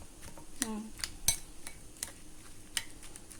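A spoon clinks and scrapes in a bowl while sambal cacapan is stirred, a series of sharp metallic taps and clatters at irregular intervals, close and fairly quiet.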